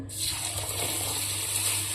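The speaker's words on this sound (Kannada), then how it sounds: "2 ರಿಂದ 3 ಸತ ಚಲೋ ತಂಗಿ ನೀರು ಹಾಕಿ ಇದನ್ನು ತೊಳ್ಕೊಬೇಕ್ರಿ" One kilogram of basmati rice is rinsed in cold water for a chicken biryani, giving a brief, close, steady swish and gush of water.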